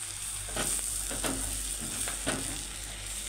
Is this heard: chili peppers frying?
yes